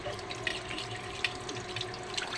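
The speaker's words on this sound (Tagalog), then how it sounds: "hugasan pa natin guys yung takip kasi" A pot lid is rinsed under a running kitchen tap while cooking fish sinigang with miso. Water streams and splashes steadily with small clinks and drips, moderately close and without voices.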